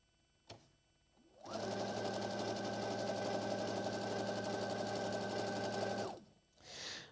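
A sewing machine stitches a wristlet in one steady, loud run of about four and a half seconds, then stops abruptly, with a short clatter near the end.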